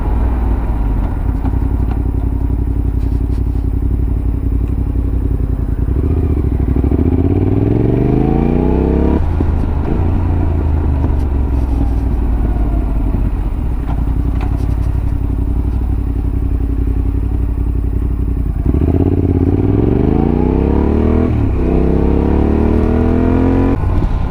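A motorcycle ridden through ordinary traffic on an errand run, its engine close and steady, climbing in pitch through the gears with brief drops at each shift and then rising again, with no talking.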